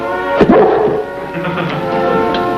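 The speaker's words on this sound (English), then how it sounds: "Bad dog." A dog on the set of an old sitcom gives a sharp bark followed by a short whimpering whine, fairly close and loud, with faint room noise and no speech over it.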